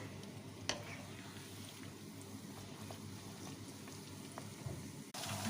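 Traditional Point Pedro style vada patties frying in boiling oil, a soft, steady, fairly quiet bubbling sizzle with a brief click near the start and a sharper shift at the end.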